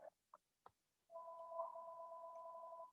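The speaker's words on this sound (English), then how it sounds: "My phone is ringing and it's nobody, so I will ignore it." A mobile phone rings with a steady electronic tone after a few short beeps, faint and somewhat distant in a quiet room, with no one talking.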